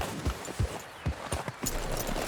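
Horse hooves clip-clop at a steady walking pace in Red Dead Redemption 2, five or six close, distinct thuds on ground with faint ambience between them.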